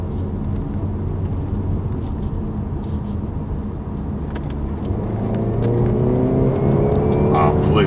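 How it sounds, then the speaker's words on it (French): A Renault Talisman with a 200 hp petrol engine in sport mode accelerates, its steady engine drone rising in pitch and loudness toward the end as speed builds, with someone talking over it. "Vous pourrez voir une excellente accélération."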